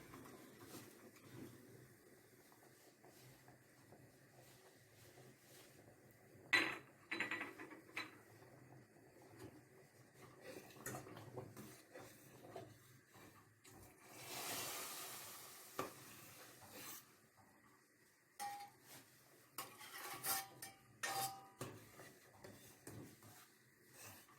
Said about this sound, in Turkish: ve çorbamın içerisine dökeceğim.